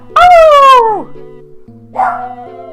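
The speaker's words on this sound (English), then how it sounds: "He just keeps barking." A dog barks close and loud: one long, drawn-out howling bark that falls in pitch, then a shorter yelp after a pause.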